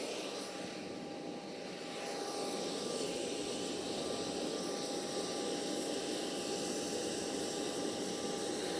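Cargo aircraft sitting on an airport apron during an emergency supply delivery, giving off a steady, loud engine roar with a constant tonal hum that holds evenly throughout, with no talking.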